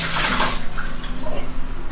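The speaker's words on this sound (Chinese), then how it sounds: "然后再给它清洗干净" Blanched bones rinsed clean under running water in a kitchen, a loud, steady splashing gush that fades toward a gentler trickle.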